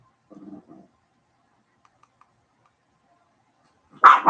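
Dogs bark in short, fairly close bursts, one brief cluster near the start and a louder, sharper outburst at the end, with near silence between them.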